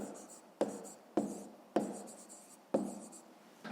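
A pen writes an answer in a school notebook for a fifth-grade maths exercise, with four or five sharp scratchy strokes that each fade off, close and clear with no voices.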